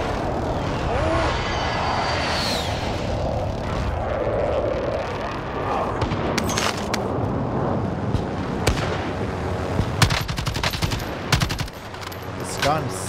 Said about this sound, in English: there's another guy flying in. I hear him. He's right below me.